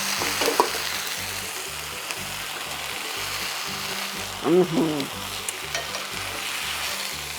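Steaks pan-fry with a loud, steady sizzle close by, a dense continuous crackle that holds throughout, with a brief louder burst of spitting near the middle.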